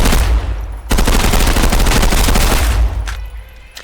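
A sustained burst of full-auto gunfire in the shooter game Contractors Showdown: dense, rapid, loud shots running for about two seconds after a brief opening, then cutting off into a fading tail with one late shot.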